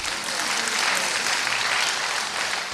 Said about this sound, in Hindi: अब अपने लिए आप ताली बजाओ क्योंकि आप सब पास हो गए।